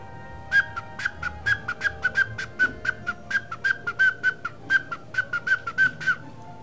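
A person whistles a rapid string of short, sharp, evenly pitched notes in a lively rhythm, close and clear with no talking over it.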